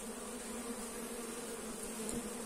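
Honey bees hum at a hive, a faint steady buzzing drone that holds evenly throughout with no talk over it.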